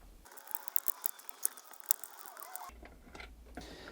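Quiet, close mechanical ratcheting clicks come in quick, uneven bursts as wheels are removed from the carriage of a FoxAlien XE-Pro CNC machine, followed by a few softer handling sounds.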